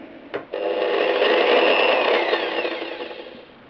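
A Triton-tools TDU-950 electric impact drill running at its lowest speed: a click, then a close, steady whirring motor hum with a faint whine that runs for a few seconds and slowly winds down, with no talking.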